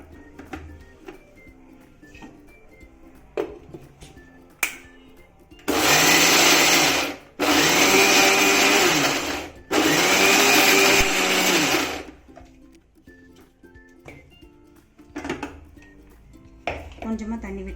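A mixer grinder whirs loudly, grinding grated raw beetroot for chutney in three long bursts with short pauses between, framed by quieter kitchen clatter before and after.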